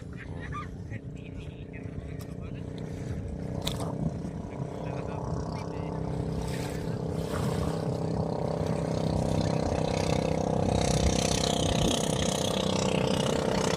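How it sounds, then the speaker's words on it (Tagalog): A fishing boat's engine draws nearer on the water, a steady droning hum that slowly grows louder throughout, with someone talking over it. "May darating kailan na bangka oh."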